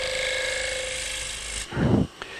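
A bowl gouge cuts wood on a lathe while turning a rosette: a steady spinning hum with a tonal whine, then a short, loud rasping scrape as the tool bites in, and a faint tap at the end.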